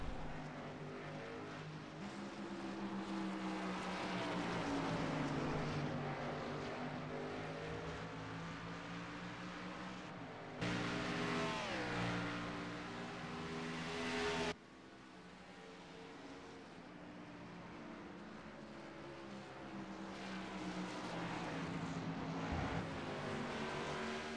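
Race cars at The Glen drone continuously around the track, with engine pitch rising and falling as one sweeps past mid-way; no voices over the steady motor roar.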